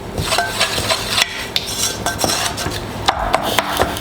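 A spoon works flour and butter into a roux in a pan, scraping and clinking against the metal in quick, uneven strokes, close and fairly loud.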